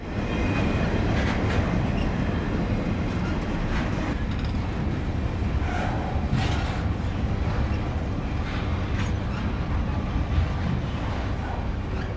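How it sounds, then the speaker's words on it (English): A Union Pacific freight train rumbles steadily past at close range on a triple-track main line in 1999, a continuous heavy roar of wheels and rail clatter with no letup. "This middle track sees a lot of action as priority intermodal trains pass the slower unit coal trains."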